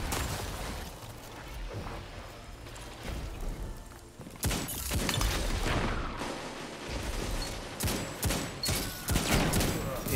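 Shotgun blasts and gunfire ring out during a Destiny Crucible match with the Duality exotic shotgun, a dense run of sharp bursts, loudest in the second half, over continuous game noise.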